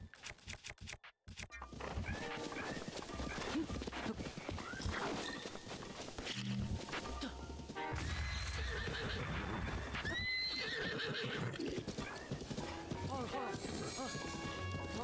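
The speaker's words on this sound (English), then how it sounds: "I'm trying to tame this horse here." Horses whinny and neigh repeatedly over galloping hoofbeats in The Legend of Zelda: Breath of the Wild, with game music and sound effects throughout.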